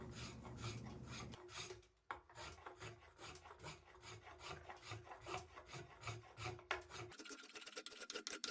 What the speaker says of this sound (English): Just for sort of the final fit, I like to use a spoke shave.